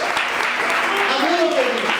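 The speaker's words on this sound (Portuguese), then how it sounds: "Vamos aplaudir a Deus" A church congregation claps together at an Easter worship service, a dense, steady burst of applause that lasts about two seconds while a voice carries over it.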